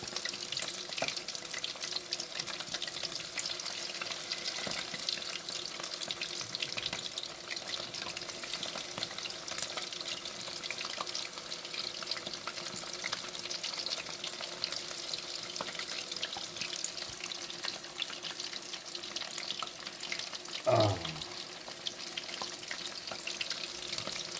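Prawns frying and sizzling in a pan: a steady, moderately loud sizzle runs throughout with a brief clink near the end, and no talk.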